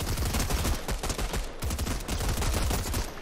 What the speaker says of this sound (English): when you shoot your gun, if you aim up slightly, it does that